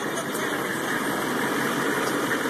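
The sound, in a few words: car engine revving at the exhaust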